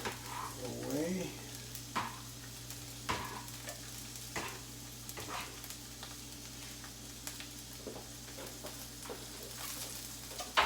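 Onions fry in a pan with a faint, steady sizzle, broken by periodic utensil knocks and stirring, with a short murmur of speech early on.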